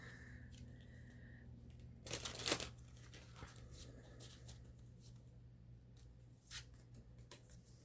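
A tarot card deck is shuffled by hand, soft riffling and sliding of cards in close, quiet bursts with a louder flurry early on and scattered taps and flicks afterward.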